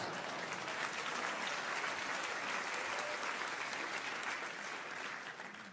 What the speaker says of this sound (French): applaudis si tu veux, voilà.